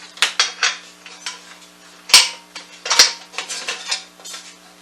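Metal paddle attachment being fitted into a stand mixer bowl for cinnamon roll dough, giving a series of sharp clinks and clanks, with two louder metallic knocks near the middle, up close and without talk.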